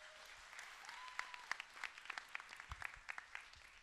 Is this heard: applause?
yes